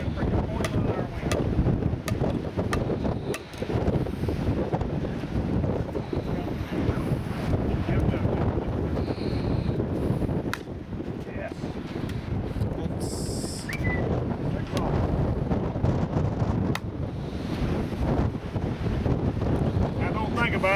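Strong wind roars across a golf course and buffets the microphone for the whole stretch, loud and constant. A person talks now and then underneath.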